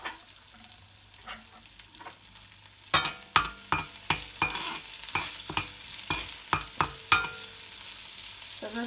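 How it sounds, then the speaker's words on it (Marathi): Garlic and spice mixture for taro leaf curry fries in a pan, a soft sizzle first, then a series of about a dozen sharp spoon strikes and scrapes from stirring, close and moderately loud. "आपलं आता हे चांगलं फ्राय होतं आहे मिश्रण."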